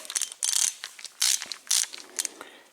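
A quarter-inch ratchet clicks in short bursts while backing screws out of a Rainbow vacuum power sweeper, several quick sharp ratcheting runs separated by brief pauses, close and crisp with no talking.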